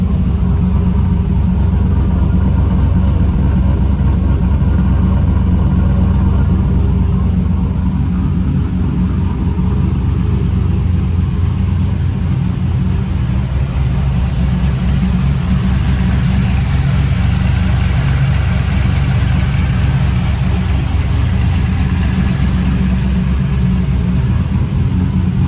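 A Chevrolet Trailblazer SS with a full 3-inch exhaust idles loudly and close by, a continuous deep burbling rumble holding steady for the whole stretch with small fluctuations in pitch.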